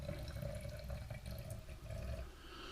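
About 100 ml of methylated spirits poured into a container for home-mixed shellac, a short, steady liquid trickle and splash heard close, with a faint gurgle and no talking.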